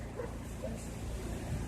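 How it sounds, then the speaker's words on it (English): A dog barks faintly in the distance after a hurricane, a few muffled yips half buried in a steady wash of outdoor background noise. "What is that? That's a dog Dog. that Melissa brought over to my house"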